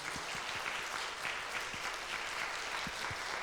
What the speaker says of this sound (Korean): 우리 보내주신 하나님께 영광의 박수 올려드리고 또 환영합니다